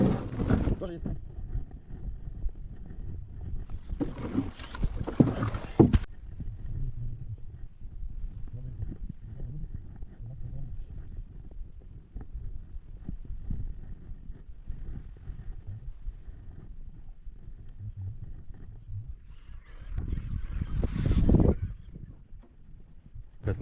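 A small fishing boat rowed with oars on a lake near Kyiv, with soft water sounds and occasional knocks from the oars. People talk over it, and wind bursts hit the microphone.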